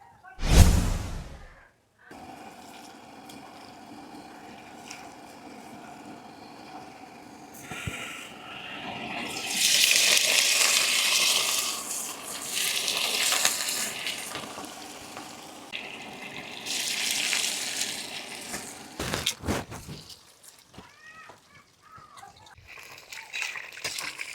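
Chicken 65 pieces drop into hot oil with a loud splash, then bubble and crackle in bursts of frying that swell and fade over about twenty seconds, with brief voices and handling noises near the end.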